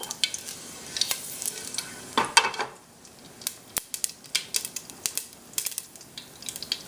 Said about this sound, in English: To this, we're going to go ahead and add our curry leaves